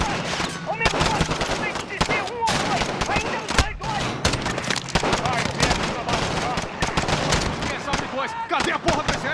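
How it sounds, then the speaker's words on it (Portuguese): Rapid automatic gunfire and bursts of shooting from Call of Duty Modern Warfare, set in London's Piccadilly, crackle loudly and almost without pause, mixed with shouting voices throughout. "Armas automáticas"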